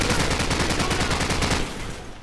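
Rapid machine gun fire in Call of Duty 4: Modern Warfare, a dense, loud burst of rhythmic shots that runs steadily for about a second and a half before tailing off.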